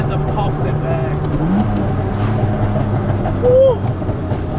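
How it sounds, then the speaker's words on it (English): A Nissan R31 Skyline with a stock RB30 inline-six engine revs and crackles with pops, the engine drone rising and falling beneath someone talking loudly close by. "Oh, this sounds very much like an old school 240Z with that noise"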